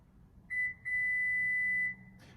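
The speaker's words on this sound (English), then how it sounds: "press and hold the open and close switch until you hear a series of beeps." A faint electronic beep from the power tailgate of a 2020 Subaru Ascent Touring sounds briefly, then a longer steady tone follows after a short gap; quiet background, no speech.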